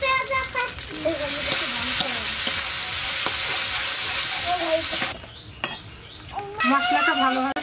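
Spice masala with turmeric powder and salt sizzles loudly in a pan while being stirred, with scraping under steady frying and a voice talking over much of it, briefly quieter near the end.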